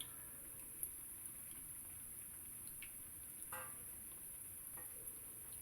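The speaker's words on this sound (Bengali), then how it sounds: "গরম তেলে দিয়ে ভাজতেছে" Onion and eggplant fritters in gram-flour batter frying in hot oil, giving a faint, steady, even sizzle that runs throughout with a few soft crackles.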